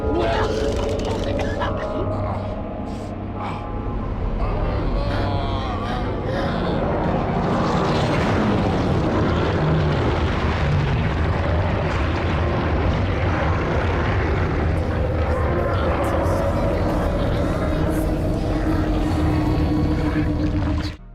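A rescue helicopter in The Thing video game roars loudly and continuously atop an alien ship, a dense engine and rotor din mixed with game sound effects for about twenty seconds.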